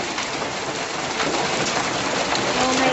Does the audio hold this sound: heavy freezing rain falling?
yes